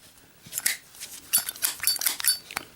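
A Zippo lighter with a steel insert is flicked open and lit, giving a quick series of faint metallic clinks, clicks and scrapes close by, with no talking.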